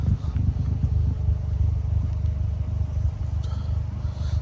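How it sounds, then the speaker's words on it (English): A modified stage 2 Ford Fiesta ST-2 engine's deep, throaty exhaust rumble drones steadily throughout, loud and close, with no talking. "you have got a nice exhaust note out of this car"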